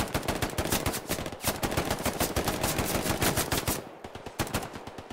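Rapid bursts of video game gunfire, including fast automatic fire, fill the clip loudly and continuously, dropping briefly before resuming with scattered shots.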